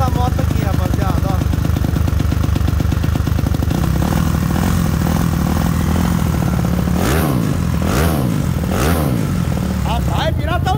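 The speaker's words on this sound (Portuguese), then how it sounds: "Olha a lenta dessa moto aqui, rapaziada, ó." A motorcycle fitted with a 67mm kit and aftermarket carburetor idles with a loud, uneven, lumpy chug, then takes a few quick revs near the end, recorded up close with a voice talking over it.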